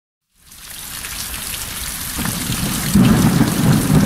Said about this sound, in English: Hey, Dad, it's raining.